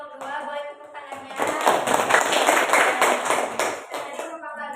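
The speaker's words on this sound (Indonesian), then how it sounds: "Boleh tepuk tangannya." Students clap in a classroom after group presentations during a micro-teaching lesson, a few seconds of dense, close applause that swells and then tapers, with a teacher's voice heard around it.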